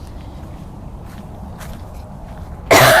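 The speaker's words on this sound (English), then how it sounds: "I apologize for coughing." A single sharp, loud cough bursts out near the end, close to the microphone, after a stretch of low background rumble and faint shuffling at a big cat rescue during Hurricane Hermine.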